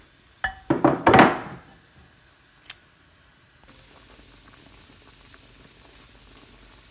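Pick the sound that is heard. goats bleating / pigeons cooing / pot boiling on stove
pot boiling on stove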